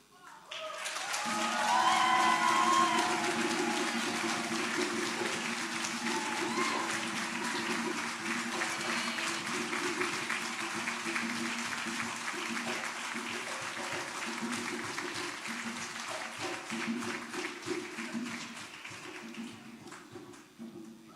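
Sustained audience applause at a Malcolm X Day community celebration, a steady wash of clapping that swells early and tapers off over about twenty seconds, with a low hum underneath.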